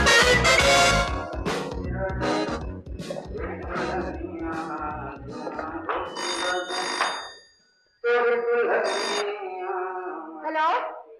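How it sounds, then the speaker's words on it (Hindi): A telephone rings loudly in repeated electronic trills, with a short gap partway through, while people talk nearby in an indoor office scene. "चतुर्वेदी, आपका फोन।"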